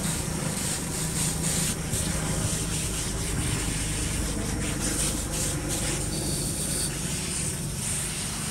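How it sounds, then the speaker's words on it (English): A close, continuous hiss of water spray rinses a dirty fish pond filter, a dense, loud rush that barely changes from start to finish. "Now take this filter out and let's go rinse this."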